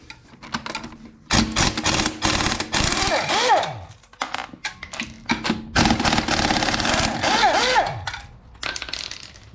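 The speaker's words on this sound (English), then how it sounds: "It just drives them right out. That's the power of air right there." Pneumatic air impact wrench backing out locking lug nuts, loud rapid hammering bursts in two long runs broken by brief pauses, close up.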